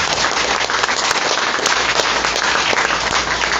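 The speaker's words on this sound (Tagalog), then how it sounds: "Palakpak lahat ng mga champion." Audience applause at a new distributors' orientation seminar, dense steady clapping filling the room for a few seconds, loud and continuous with no talk over it.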